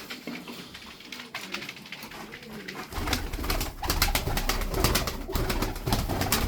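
Makine Sütbeyaz tumbler pigeons cooing close by over a steady background rumble, with soft repeated calls and scattered fluttery clicks that grow louder midway.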